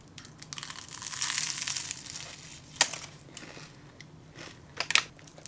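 Someone bites into a crisp, flaky egg tart at close range, producing a run of dry crunching and crackling with two sharper bites standing out near the end.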